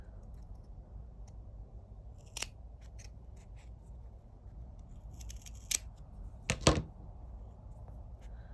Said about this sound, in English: So let me just cut that out.